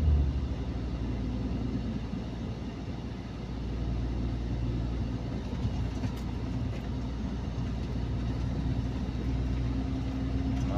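Road traffic hums as a steady, dense low rumble of passing vehicles on a street near a gas station in Sariaya, Quezon, continuous and fairly distant with no clear voices.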